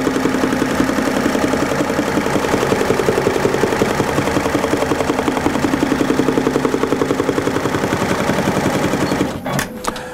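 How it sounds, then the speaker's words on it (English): An embroidery sewing machine stitches a custom patch with a loud, rapid, steady mechanical chatter that runs continuously before stopping abruptly near the end, followed by a couple of brief clunks. "From there, we're ready to start and continue on sewing our custom patch."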